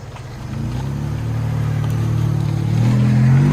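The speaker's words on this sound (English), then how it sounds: "Ford F-150 EcoBoost with BORLA Pro XS" A 2016 Ford F-150 with the 3.5L EcoBoost V6 and Borla Pro XS dual exhaust revs steadily, its deep, close exhaust note climbing in pitch and loudness with no talk over it.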